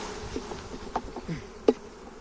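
A low, continuous hum of honeybees buzzing close by at an open hive, with a few faint taps and a short sharp knock standing out.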